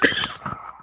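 A single short cough, close and fairly loud, with a brief rough tail and no talk around it.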